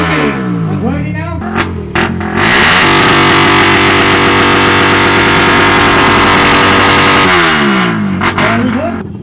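Suzuki motorcycles with loud pipes rev together at a dealership grand opening motor show, a dense, sustained roar that swells after a few seconds and holds before easing off, very loud and close, with voices faintly underneath.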